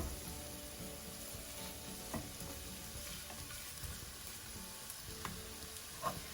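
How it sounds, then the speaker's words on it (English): Fried aubergine going into a pan with ground ginger and chili powder, a quiet, steady sizzle with occasional light stirring clicks throughout. "Add in the fried aubergine."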